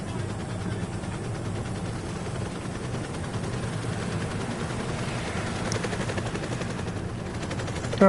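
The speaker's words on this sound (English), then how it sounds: "Board the chopper." Helicopter rotor chop in the video game Call of Duty Black Ops Cold War, a steady rhythmic thrum with engine whine, growing slightly louder toward the end, no talk.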